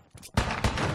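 A brief burst of gunshots in Fallout 4, modded PC gameplay, starts after a faint lead-in and rings out loud and close for under a second.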